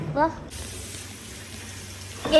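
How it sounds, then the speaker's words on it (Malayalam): Water streams from a washroom tap during handwashing at a hotel in Munnar, Kerala, a steady hiss running for a couple of seconds, with people talking briefly at the start and end. "പിന്നെ നമ്മൾ പോയി ഡയറക്റ്റ് വാഷ്റൂമിൽ കൈയൊക്കെ കഴുകാൻ"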